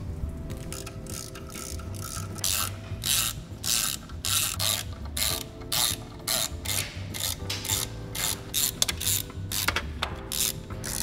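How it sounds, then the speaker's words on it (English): Heat shield hardware, 4mm Allen and E8 Torx bolts, being loosened on the turbocharged N54 engine of a BMW 335i, giving steady rapid ratchet clicking in bursts throughout, close and fairly loud, with no talking. "I'm gonna remove the hardware for these heat shields."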